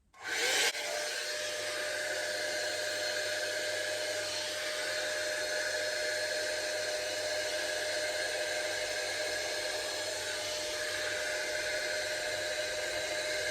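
A cheap copy of the Dyson Airwrap hair styler blows steadily through its smoothing attachment on setting 2, giving a loud, close, continuous airy whoosh with a faint motor whine that starts abruptly and holds even throughout, with no talking.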